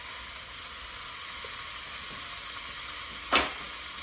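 One pound of ground beef sizzles steadily in a heated pan, a broad, even hiss holding close and constant, with one brief sharper spatter near the end.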